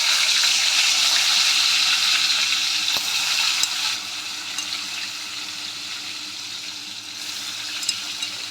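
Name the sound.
frying pointed gourd (potol) in hot oil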